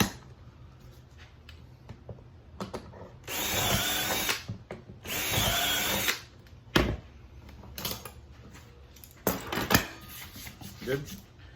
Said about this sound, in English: Double check it before you drill the hole.